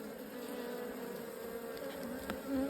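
Honey bees buzz in a low, steady drone close by during a hive inspection while honey supers are added, a faint continuous hum with a brief sharper tap near the end.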